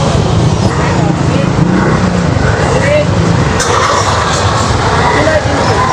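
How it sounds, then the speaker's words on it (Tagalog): Dense traffic on a busy Manila street near Divisoria, with many vehicles passing in a continuous loud engine roar and road rumble, voices mixed in underneath. "Ganito talaga pag maraming dumadaan dito mga sasakyan, no?"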